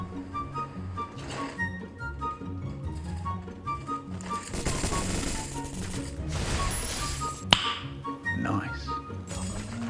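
Rapid bursts of video game gunfire crackle over a busy, dense soundtrack, with sharp cracks scattered throughout and one loud snap near the end.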